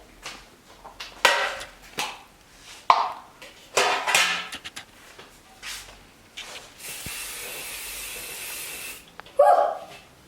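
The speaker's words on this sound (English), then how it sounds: "Then we want to spray 2 cake pans with non-stick spray." Short hissing bursts of non-stick aerosol spray onto two cake pans, then a longer continuous spray, mixed with clinks and handling noises nearby.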